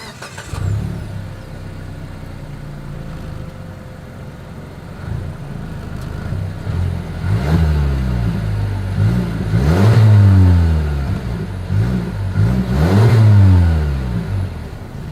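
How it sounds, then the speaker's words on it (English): Engine revs from a 2023 Mazda CX-9 SUV exhaust, a steady idle rising into three or four loud blips that climb and fall in pitch, with no talking over it. "I do believe you guys know what we have to do next is always here is that exhaust clip."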